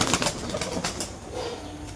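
A pair of pigeons flies off, a quick flutter of wing flaps in several soft beats at close range, then fading into quieter ambient noise.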